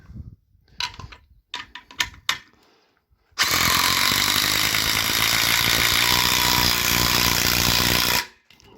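A DeWalt DCF887 impact driver runs at speed 3. A few short bursts come first, then a long, loud, steady hammering whir holds for about five seconds before stopping abruptly.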